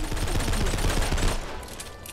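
Rapid shotgun blasts and gunfire from the zombie shooter game Abandoned World on a desert map, a dense run of loud repeated shots that thins out near the end.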